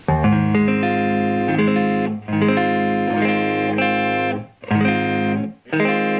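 A semi-hollow electric guitar on the neck pickup plays sustained, warm chords high on the neck, each ringing out before brief gaps, loud and close with no talking.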